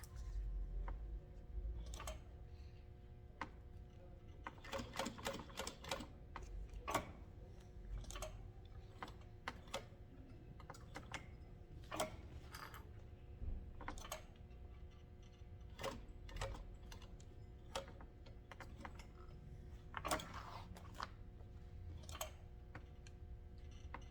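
Scissors trim fabric while a tote bag is being sewn, giving scattered crisp snips and small clicks at irregular intervals, close by and quiet, with no talking.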